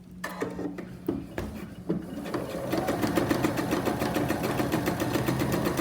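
A sewing machine runs along a stitch line on a fabric face mask, forming an elastic channel: a few short mechanical starts and handling clicks, then a loud, continuous rapid whir of stitching close by.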